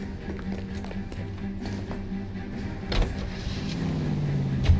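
A car is driven in the game LA Noire, with a low engine hum running steadily underneath. Faint mechanical taps and clunks sit in the background, then the engine rises slightly toward the end, and no one speaks.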